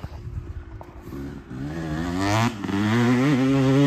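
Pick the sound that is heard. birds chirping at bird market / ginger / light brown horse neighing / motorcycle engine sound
motorcycle engine sound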